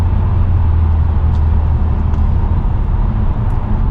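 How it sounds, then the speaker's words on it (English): A Chevrolet Lumina SS engine on a highway drive, droning steadily and loudly at a constant throttle, a continuous low rumble with faint wind and road noise and no talking. "Hey, this is throttle response."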